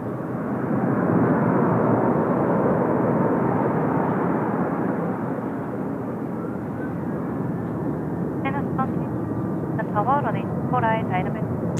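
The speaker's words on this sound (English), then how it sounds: "Oh, big Jin Air just touching down there as well on runway 34 left" A Jin Air airliner touches down on runway 34 Left at Seoul Incheon Airport, a broad, steady jet rumble that gradually eases, with people's voices and brief chirps near the end.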